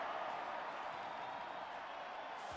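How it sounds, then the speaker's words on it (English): Crowd at a Washington State versus Washington college football game, a steady broad roar of distant cheering that holds even and unbroken. "They're going to cheer from the crowd."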